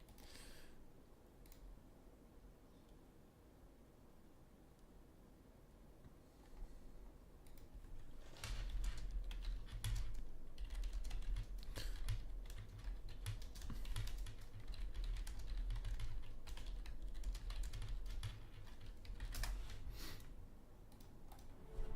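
Computer keyboard typing during an online strategy game session, quiet at first and then a steady, dense run of clattering keystrokes close to the microphone, with no talk.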